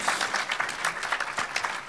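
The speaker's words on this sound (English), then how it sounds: "get a warm round of applause" Steady clapping from an audience at an indie game festival event fills the whole stretch, dense and continuous, with no voices on top.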